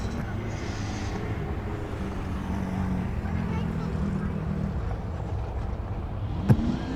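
Drag racing cars at Tulsa Raceway Park, a continuous engine drone that rises and swells across the strip, heard from a distance with a brief sharp knock near the end.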